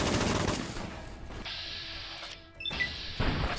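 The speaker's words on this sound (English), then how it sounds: "Stupid fucking flare guns" Flare guns fire in Fallout: New Vegas, bursts of rapid shots with crashing impacts, then a quieter stretch with thin whistling tones before the shots return loudly.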